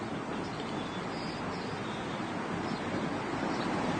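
Steady, unbroken rushing hiss of a fast-flowing mountain stream, even and moderately loud from start to finish.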